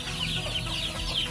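Pet fighting-breed chickens cluck and call in quick repeated bursts at close range over a steady background hum, with no talk.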